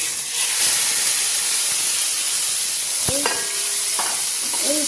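Marinated chicken chow mein ingredients hit a hot wok in restaurant style, giving a loud, constant hissing sizzle with steam and occasional metallic stirring knocks.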